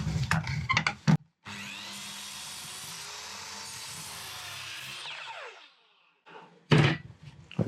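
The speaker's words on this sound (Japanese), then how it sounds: "丸この、下から切るので、下から当てて、この線に合わせてあげます" A circular saw cuts wood from below along a marked line during Japanese carpentry joint work, giving a steady whining cut of about four seconds that winds down at the end. A few wooden knocks and handling sounds come before and after.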